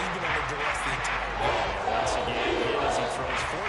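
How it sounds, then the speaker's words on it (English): A large crowd roars continuously at a football game between the Chiefs and the Eagles, forming a dense, steady wall of noise across the whole stretch. "This crowd doing all they can."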